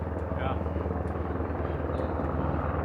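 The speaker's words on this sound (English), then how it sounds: "there's a helicopter coming in to land" A helicopter near Everest coming in to land, its rotor thudding in a steady rapid rhythm, loud and fairly close, with people talking over it.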